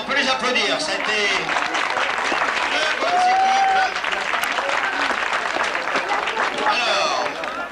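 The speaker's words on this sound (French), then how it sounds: "Bien, on peut les applaudir." Crowd applauding teams at outdoor village games on a July 14 festival day, a loud continuous burst of clapping with cheering voices and a whistle-like tone mixed in.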